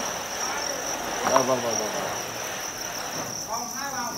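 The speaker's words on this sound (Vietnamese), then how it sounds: "hai thùng dế" A dense, steady trill of many crickets chirping close by in two boxes on a cricket farm, with a brief spoken word partway through.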